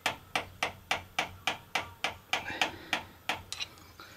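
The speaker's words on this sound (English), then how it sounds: "Now to tap this last one all the way in, I'm going to use a bigger screwdriver with a flatter end so it doesn't scratch anything." A bigger flat-ended screwdriver taps a main bearing into place in a Nissan Xterra 3.3 engine with the oil pan removed, giving about fourteen sharp, evenly spaced metallic knocks at a steady rhythm, close and moderately loud.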